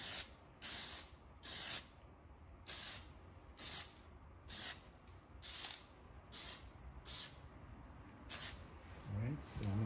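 A spray can hisses in about nine short, evenly spaced bursts at close range as a car's H emblem is painted black with sweeping strokes.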